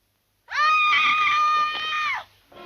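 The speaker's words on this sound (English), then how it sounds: "Who screamed?" A woman lets out a single loud, sustained scream lasting nearly two seconds, cutting off abruptly before a quieter sound follows, heard in a spooky 1960s giallo thriller.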